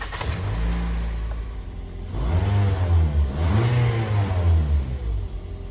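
A Toyota Vios NCP93 engine cranks and catches after a fan belt replacement, then revs up and down in a couple of rising swells before settling, loud and close.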